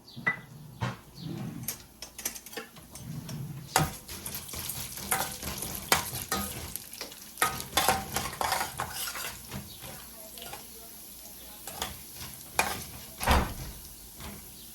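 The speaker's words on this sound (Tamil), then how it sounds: "எண்ணெய் காஞ்சிச்சு, உளுந்து போட்டுடலாம்." Urad dal fries in hot oil for pudina thuvayal while a spatula scrapes and stirs the pan, a soft continuous sizzle under repeated close clinks and scrapes throughout.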